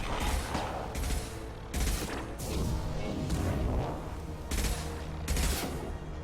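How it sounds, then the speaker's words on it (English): A Geth turret fires in Mass Effect 2, with repeated bursts of loud, crackling shots about every second, interspersed with rumbling impacts and battle noise. "If he has a Geth, he should be able to use their turrets, which he is."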